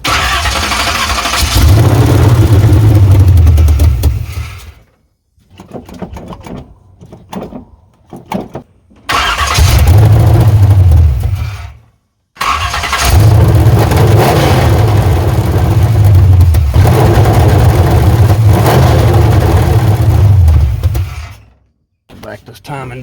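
A 383 engine in a Chevrolet C10 with the timing backed down, revived after more than ten years idle, cranks and catches in three loud bursts of deep running rumble with brief quiet gaps between them.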